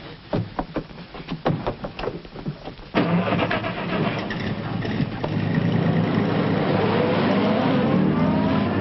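A 1930s car engine cranks with several rhythmic starter turns, catches, then roars steadily louder as the car pulls away close by, with no talk over it.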